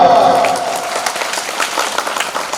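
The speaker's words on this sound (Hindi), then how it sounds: "बिशप स्वामी के सुंदर बच्चन लगे जोरदार ताली दो" Loud, dense applause from a church congregation at a priestly ordination after a bishop's address, starting at full strength and carrying on steadily with scattered individual claps.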